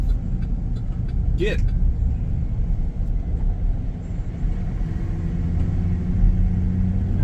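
A car passes by on a road in Madison, Georgia, mostly lost in steady engine and road rumble heard from inside a moving car, with one short spoken word.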